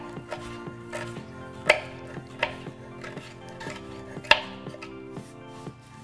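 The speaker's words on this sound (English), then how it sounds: "I'm gonna actually go ahead and do a second chop on this one" A knife chopping fresh oregano on a cutting board, irregular crisp taps with a few louder strikes, fairly quiet over a faint steady background hum.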